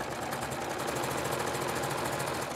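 A serger stitches fabric binding in a fast, even mechanical whir with rapid rhythmic ticking. The sound is close and continuous, and no one speaks.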